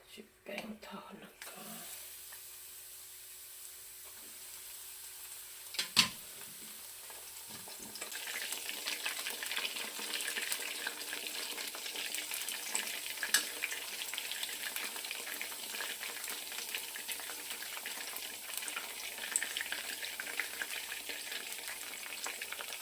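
Battered vegetables frying in oil that has been used before, a continuous crackling sizzle that builds and holds steady, with occasional stirring knocks and clatter near the start.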